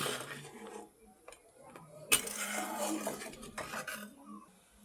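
A spoon stirs dry fruits into a cooking pot, making a series of close metallic clinks and scrapes against the pan with quiet pauses between them.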